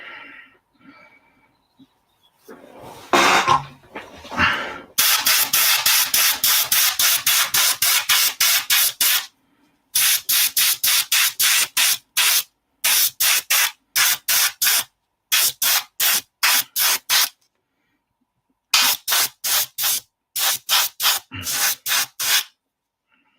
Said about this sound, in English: so again, we'll just give them a coat of primer.